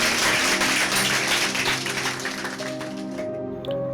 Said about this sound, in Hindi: जोरदार ताली परमेश्वर के वचन के लिए बजाएंगे।